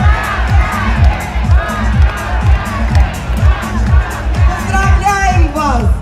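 A large indoor audience at a Russian folk-art competition event cheers and shouts in rhythmic bursts, loud and close, with a crowd of voices chanting together in pulses over steady hubbub.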